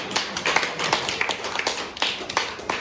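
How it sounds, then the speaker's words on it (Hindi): A church congregation claps loudly together during a healing prayer service, producing a dense, uneven patter of many hands that rises and falls in waves. "जोडदार ताली मार्नु"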